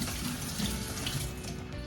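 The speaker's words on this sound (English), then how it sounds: "I start by using a lot of water to rinse them and also to place them." Water pouring steadily to rinse clover and alfalfa sprout seeds in a sprouting tray, a continuous close hiss with no pauses.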